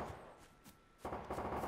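Gunfire crackles in the battle royale game H1Z1, faint scattered shots at first, then a dense, louder rapid burst of fire in the final second.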